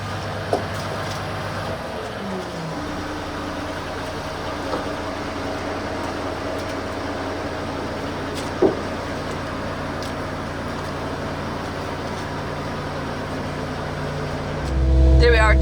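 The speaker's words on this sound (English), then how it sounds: "Good to go with his brand new 73 plate Scania." A brand new 73 plate Scania truck delivering containers gives a steady, low engine rumble throughout, swelling louder and closer in the final second.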